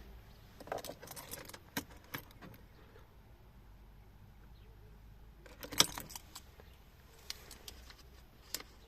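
Car keys jangle at the ignition of a Citroën Berlingo 1.6 HDi, a few light metallic clinks and rattles in scattered bursts around a quiet interior, with a louder cluster near the end.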